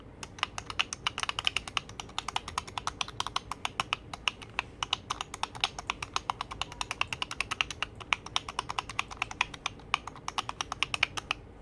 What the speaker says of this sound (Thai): เสียงกดปุ่มของ เจ้า X8 ตัวนี้นะครับ ก็จะเป็นเสียงลักษณะแบบนี้นะครับเดี๋ยวผมจะกดให้ให้ฟังนะครับ